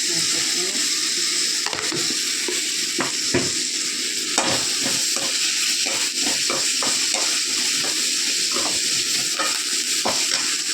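Onions and ginger sauté in a pan for an egg curry with a steady sizzle, while a utensil scrapes and taps against the pan in repeated strokes close by, with no talking.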